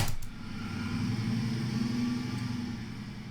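Car engine rumble as a vehicle pulls away, a low steady drone that swells briefly and then gradually fades toward the end.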